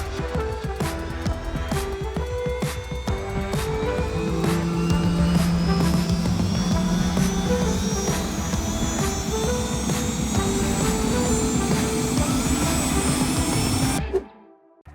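Helicopter 505 flies with a loud, continuous rotor and turbine drone and a steady rhythmic chop, its whine slowly rising in pitch, before the sound cuts off abruptly.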